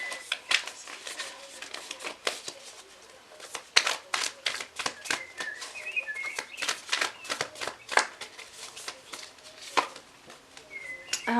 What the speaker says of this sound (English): You can just hear the shuffling of the cards instead